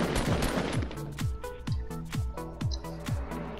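Rapid gunfire from the battle royale shooter Fortnite, a quick string of sharp, close shots in a steady rhythm, each cracking loudly and fading fast, with no talk over it.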